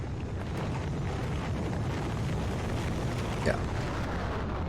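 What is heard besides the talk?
rockets launching in the video game Factorio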